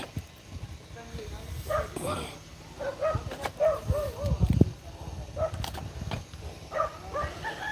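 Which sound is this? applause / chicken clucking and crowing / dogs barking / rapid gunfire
dogs barking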